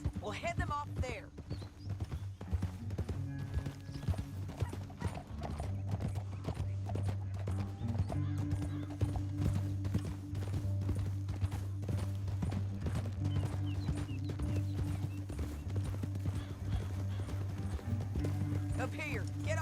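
Rhythmic hoofbeats of horses galloping in the video game Red Dead Redemption 2, steady and continuous under a backdrop of music and occasional talk.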